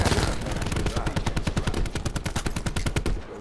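Rapid, evenly spaced gunshots fire in a fast rhythmic volley during a Call of Duty Black Ops 4 match, loud and close with a brief lull midway, with faint talk underneath.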